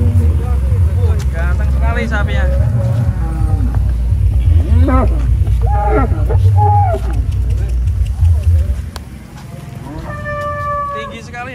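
Giant contest cattle are unloaded from a truck at a cattle show and moo repeatedly in deep calls, close by, under a steady engine rumble while people talk throughout.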